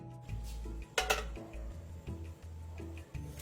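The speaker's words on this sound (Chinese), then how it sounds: "再将黑糖糕放入" A pan of brown sugar steamed cake is set into a steamer with boiling water, with a sharp metallic clatter near the start followed by lighter knocks and clinks.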